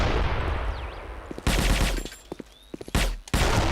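Gunfire in a competitive multiplayer shooter match, loud crackling bursts of automatic fire with short gaps between volleys, dense and close, interspersed with sharper individual shots.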